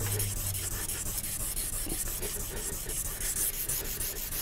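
A Damascus steel hunting knife blade is rubbed by hand with used 1500-grit abrasive, making a steady, quiet scraping swish in repeated back-and-forth strokes, close up and with no talking.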